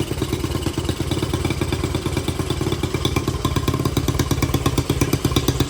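A motorcycle engine runs steadily at a fast idle with a constant, close, rhythmic clatter and no throttle changes, with no voices over it.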